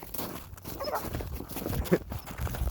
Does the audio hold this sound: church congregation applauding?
no